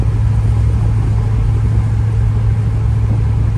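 A Chevy S10 pickup fitted with a swapped 6.0 V8 and T56 gearbox cruises along, its engine a steady, loud low rumble throughout with no break and no voices.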